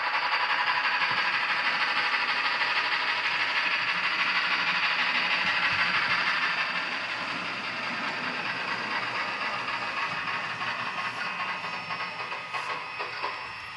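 An Athearn Genesis Big Boy model train locomotive runs on its track with a steady, close mechanical whir and hum that eases slightly partway through, ending with a few light clicks.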